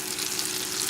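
Creole-style popcorn shrimp dropping into hot frying oil, a steady close crackling sizzle filling the short moment without any voices.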